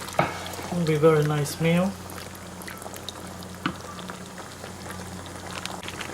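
A pound of shrimp tossed into a pan of curry sweet potato, with a soft steady sizzle and bubbling simmer beneath a brief spoken remark near the start, then a few quiet clinks as cooking continues.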